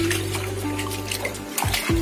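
Rainwater runs into a house, a steady close rush and trickle over a low hum, with a couple of brief splashy knocks near the end.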